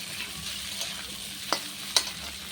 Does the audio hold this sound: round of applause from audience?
no